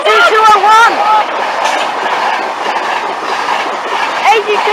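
A train passes through Newark North Gate station with loud rolling rumble and clickety-clack of wheels, while voices talk over it near the start and again at the end.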